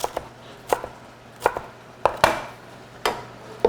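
A knife chops food on a cutting board while making keto chili pizza, with about eight close, crisp thuds at an uneven, unhurried pace.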